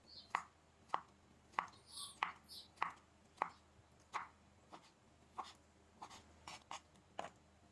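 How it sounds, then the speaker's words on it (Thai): A knife slices peeled toddy palm fruit into rounds on a board, giving about a dozen crisp, evenly spaced cuts in a steady rhythm, close and moderately quiet, with no talking. "แล้วก็นำมาหั่นเป็นแว่นๆเลยครับ"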